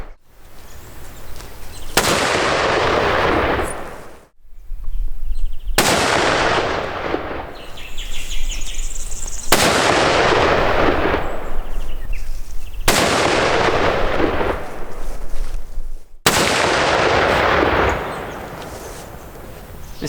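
A rifle fires factory ammunition outdoors in four loud, sharp cracks spaced a few seconds apart, each leaving a long rumbling echo that fades before the next shot.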